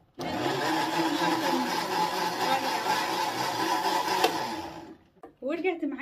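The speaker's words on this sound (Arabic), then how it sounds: "كل ده هيتضرب في الخلاط لمده دقيقتين بس" A blender mixing juice whirs loudly and steadily for several seconds, then stops abruptly, followed by a brief bit of talking.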